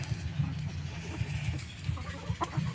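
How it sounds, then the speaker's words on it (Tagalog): A young rooster clucks in a series of soft, low, close clucks in irregular rhythm, with faint farmyard noise behind. "Ayan o, ito yung rooster"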